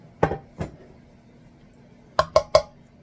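A 9x13 baking pan clatters as it is handled in a home kitchen while baked mac and cheese is being made: two single knocks, a pause, then three quick metallic clanks close together, moderately loud and close.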